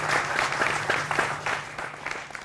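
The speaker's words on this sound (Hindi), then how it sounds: "जोरदार तालियों से सभी का अभिनंदन है" Studio audience clapping during a televised political debate show, a dense steady patter of hands at moderate level that slowly fades over a couple of seconds.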